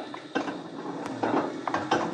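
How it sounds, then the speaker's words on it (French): Very old machines starting up in a fabric flower workshop: close mechanical clatter with repeated ratcheting clicks and knocks over a steady low hum. "il faut d'abord réveiller de très vieilles machines"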